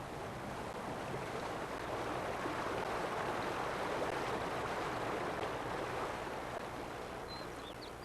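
A mountain stream with waterfalls and rapids rushes in a steady, dense roar of white water, continuous and fairly full without pause, no voices.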